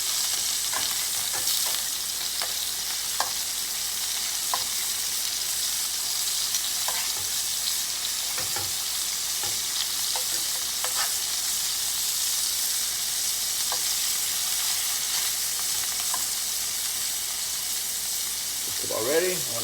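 Shrimp sizzle and fry steadily in a pan while a Portuguese-style seafood stew is being cooked, with a continuous hiss broken by occasional stirring clicks and pops.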